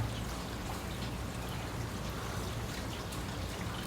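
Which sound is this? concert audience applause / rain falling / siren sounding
rain falling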